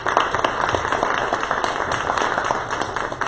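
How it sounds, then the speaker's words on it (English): Audience at a community creator meetup applauding presenters, a dense, steady wash of many hands clapping together, fairly loud and continuous throughout with no talk over it. "All right, well, give them a round of applause,"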